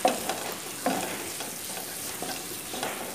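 Spices with salt and turmeric fry in a pan for a fish curry, giving a soft continuous sizzle broken by a few faint scraping stirs, quiet and close, with no voices.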